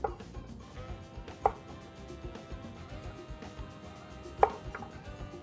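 Knife chopping food into sticks on a cutting board, quiet irregular cuts with two sharper knocks against the board, close and soft under light background hum.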